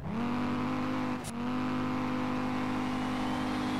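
A drift Audi TT in SLRR holds a loud, steady engine drone with a rising turbo whine, broken by a brief dip and a hissing blow-off before the droning engine resumes.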